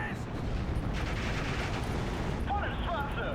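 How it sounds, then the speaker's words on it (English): Dense rumbling battle din of mortar and machine gun fire in the wartime strategy game Steel Division 2, a continuous loud wash of distant bursts and booms with faint voices or radio chatter appearing near the end. "These guys are pushed off due to mortar fire."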